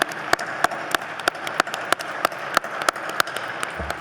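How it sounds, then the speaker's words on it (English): A concert audience claps for a symphony orchestra, with a sparse, rhythmic patter of separate hand claps, moderately loud and close, with no talking. "let's begin by giving a round of applause to this wonderful symphony orchestra"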